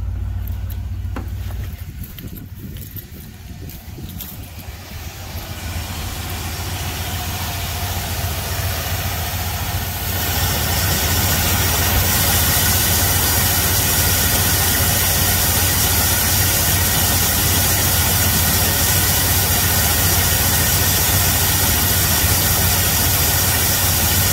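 A 1981 Ford Econoline E150 van idles steadily after winter storage, a continuous close mid-pitched engine drone that grows louder and fuller partway through and then holds even, with no talk.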